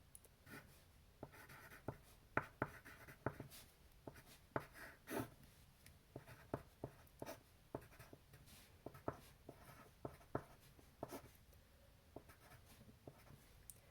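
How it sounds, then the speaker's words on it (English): Pen writing out an equation on paper, with quiet scratchy strokes and taps in an irregular rhythm, close and faint with no talking. "we're first going to write out this equation right here"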